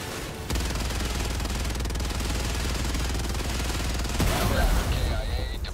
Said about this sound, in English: So I had other guys shooting at me. It was pretty weak small arms fire